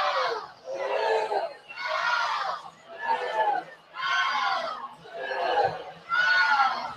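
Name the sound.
crowd cheering at softball game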